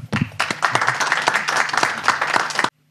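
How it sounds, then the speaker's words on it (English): An audience at an evening talk bursts into applause, a dense patter of many hands clapping for a few seconds before cutting off abruptly. "And therefore, applause for Callum!"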